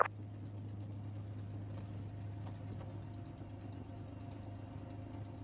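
A P-51 Mustang warbird's piston engine runs with a steady, droning hum at an even pitch, unbroken and alone with no voices.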